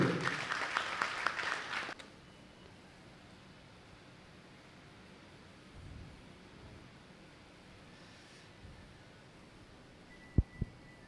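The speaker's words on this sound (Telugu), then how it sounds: "గట్టిగా చప్పట్లు" An audience claps at a book launch in a Kurnool auditorium, a dense burst of applause for about two seconds that stops abruptly, leaving quiet room noise and a couple of sharp knocks near the end.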